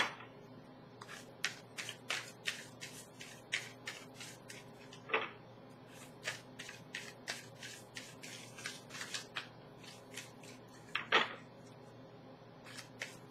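Tarot cards being shuffled, with repeated soft riffling and flicking bursts at an irregular rhythm, quiet and close.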